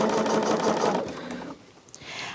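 A sewing machine stitches quilt strips together with a fast, even whir for about a second, then slows and stops, leaving faint handling noise.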